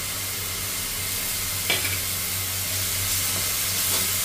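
Ginger paste and chopped garlic sauté in a hot pan, a steady close sizzle and hiss with a few soft scrapes of stirring.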